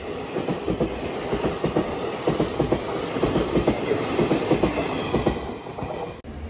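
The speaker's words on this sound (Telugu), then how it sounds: "అటువైపు ఒక గూడ్స్ ట్రైన్ అయితే వస్తుంది." A goods train rolls past up close on the adjacent track, its wheels beating a steady clickety-clack rhythm over the rails for the whole stretch.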